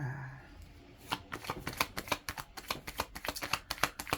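Tarot cards riffled and shuffled in quick, irregular snapping bursts, close up and crisp, with no talking.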